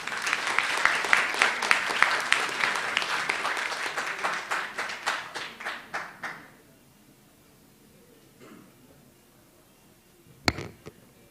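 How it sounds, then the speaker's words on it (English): Applause at a conference for the first speaker, a law-firm lawyer from Makati City: rhythmic group clapping that fades and thins out over about six seconds. A short quiet stretch follows, then one sharp knock. "Can we all please give a round of applause for our first speaker"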